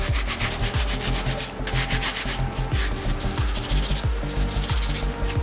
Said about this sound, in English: grab my soft bristle brush, dip that into the solution that's left, and scrub the laces in my hands